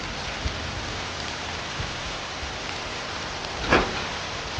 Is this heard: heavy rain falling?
yes